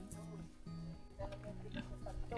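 A hungry pig grunts at a rural home, steady low grunts and snorts running through the whole stretch, fairly close, with some background noise and people nearby.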